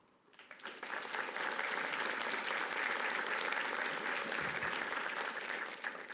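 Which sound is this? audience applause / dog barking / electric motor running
audience applause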